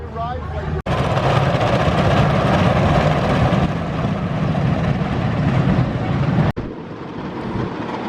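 On-ride rumble of the Judge Roy Scream wooden roller coaster at Six Flags Over Texas after retracking, a loud continuous roar of wheels on track with wind noise and brief jolts, voices faintly mixed in.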